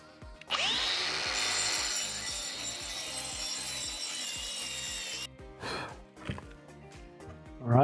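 A power tool roughens a concrete surface with a continuous harsh grinding and scraping noise that lasts several seconds, then breaks into shorter bursts near the end.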